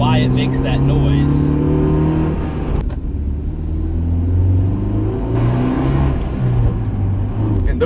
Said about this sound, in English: my foot was all the way on the clutch, and I downshifted into second, and I don't know why it makes that noise.